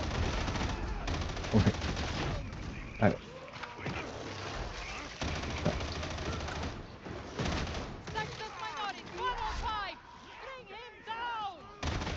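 Rapid bursts of small machine-gun fire in the video game Darktide, dense and loud, with booming impacts and other combat noise, while players talk over the gunfire.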